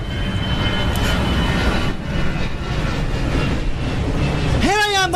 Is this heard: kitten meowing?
no